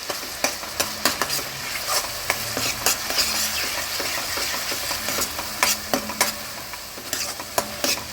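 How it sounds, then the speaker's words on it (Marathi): Onion sautés in hot oil and butter for pav bhaji, a close steady sizzle punctuated by sharp, repeated spatula scrapes and taps against the pan. "आता कांदा घातला आपण."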